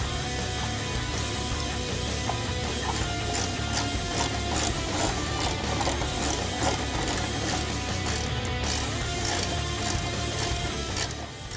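A ratchet tightening bolts on a 1999-2004 Mustang headlight reinforcement panel clicks steadily in rapid, even strokes, close up and continuous, with no talk.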